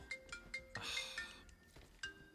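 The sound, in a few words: phone ringing, from video game Marvel's Avengers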